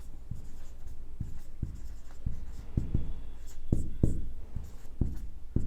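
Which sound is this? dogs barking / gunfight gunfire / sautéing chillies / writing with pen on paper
writing with pen on paper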